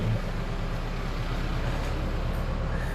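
Steady low rumble of road traffic from outside, continuous and fairly muffled, with no voices and no distinct passing events.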